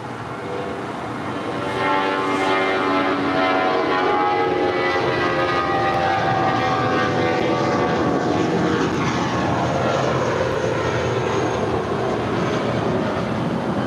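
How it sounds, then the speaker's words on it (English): Spirit Airlines Airbus A320 in birthday cake livery taking off from runway 25 right at LAX, a loud steady jet engine roar that swells after two seconds and holds as the aircraft rolls and climbs. "Next departure for us is Spirit Airlines flight 508 in the birthday cake livery. It's an A320 heading to Louisville,"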